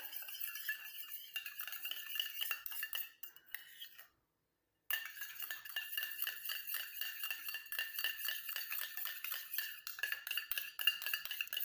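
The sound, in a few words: stirring sesame oil mixture in a bowl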